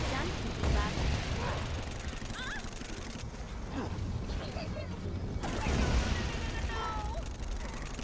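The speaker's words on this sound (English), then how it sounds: "Say hello to my dual-wielding SMGs!" Dual-wielded SMGs fire in Saints Row: Gat out of Hell with quick rattling bursts amid explosive game noise. The shots come loud and near, with a short quieter gap in the middle.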